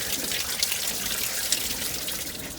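Spring water from the La Sal Mountains near Moab trickles in a soft, continuous stream, a steady close hiss of flowing water with small splashes and no voices.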